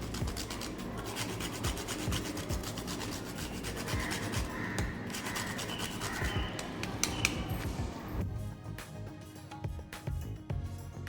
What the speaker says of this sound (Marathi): इथे थोडंसं जायफळ क्रश करून टाकणार आहे